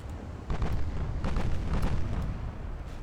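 Battleship guns fire in the naval video game Ultimate Admiral Dreadnoughts, a rolling series of deep booms and blasts merging into a continuous rumble, loud and sustained.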